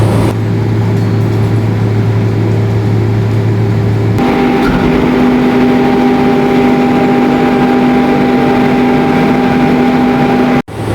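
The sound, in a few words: VMC VM-37A air compressor running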